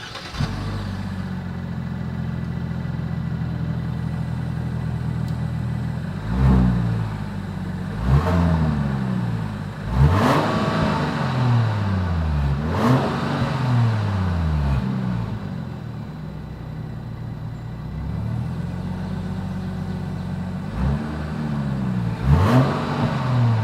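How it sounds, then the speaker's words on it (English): A 2022 Genesis GV70 sport trim in Sport Plus mode revs repeatedly, its exhaust rising and falling in several distinct bursts over a steady idle, loud and close with no talking. "Since we have a sport trim level, that Sport Plus driving mode is going to adjust the exhaust note as well."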